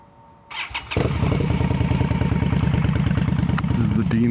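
An Indian Scout motorcycle engine with a Dean Speed Rampage aftermarket exhaust, baffles fitted, cranks and fires up, then settles into a loud, throaty, steady idle with a deep rumbling exhaust pulse, close by.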